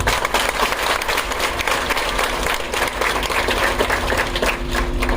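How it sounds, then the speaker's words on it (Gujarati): A large gathering of townspeople in Anjar applauds together, a dense, sustained burst of clapping that fills the space evenly and continues without a break. "આપણે તાળીઓથી વધાવીએ"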